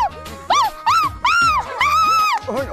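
A person imitates a dog's barking in a playful college setting, giving about five loud, drawn-out, yelping bark sounds in quick succession, with short gaps between them.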